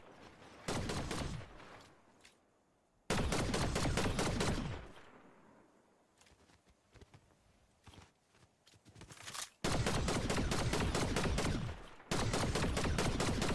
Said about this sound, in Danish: Der er mange, der bliver skudt på.